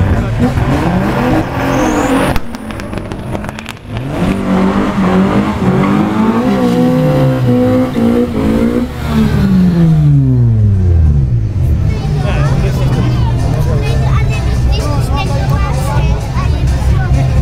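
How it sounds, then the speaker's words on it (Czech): Race car warming its tires at the start of a sprint track during a tuning event, engine revving up and down with sweeping pitch and screeching tire squeal, loud and near over crowd murmur and voices. "brutální zahřívání pneumatik vždycky při příjezdu na start sprintové dráhy"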